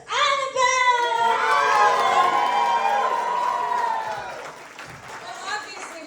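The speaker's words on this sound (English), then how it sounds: "Give a big applause to Annabelle!" A crowd of children at an Earth Day cabaret cheers and shrieks loudly at close range, the high voices rising into a sustained roar, then fading to scattered shouts and claps.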